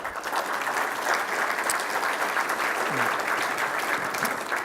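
Audience applause at a defense technology conference keynote honoring cyber competition teams: a steady, even patter of many hands clapping throughout, moderately loud and continuous, with a faint voice briefly underneath.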